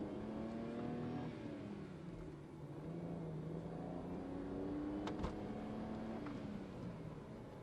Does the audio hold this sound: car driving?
yes